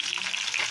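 Lapu-lapu grouper fish sizzles in hot oil while frying for escabeche, a steady close crackle over the brief moment.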